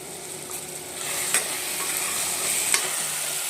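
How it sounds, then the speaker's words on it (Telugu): Paneer and chickpeas fry in a pan with salt, chili powder and garam masala, making a steady close sizzle broken by stirring scrapes and a couple of sharp utensil clicks, with no voices. "పన్నీరు అలాగే శనగలు కూడా వేసేసి ఫ్రై అయిపోతున్నాయి"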